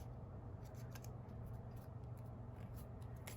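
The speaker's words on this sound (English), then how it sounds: "we're going to take our scissors and cut banner ends" Scissors snipping paper to cut the banner ends in a paper-pad craft project, a run of small crisp cuts over steady low background hum, with no talking.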